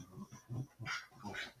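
Two puppies, one of them a whippet, give soft whimpers and small yips in a short, quiet burst of close canine vocalizing with no talk over it.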